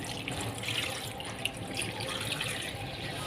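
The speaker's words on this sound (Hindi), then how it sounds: "सिंपल टैप वाटर डालकर इसमें 1 टेबल स्पून नमक ऐड करूँगी" Tap water pours steadily onto washed raw chicken drumsticks, a continuous close splashing hiss with no talking.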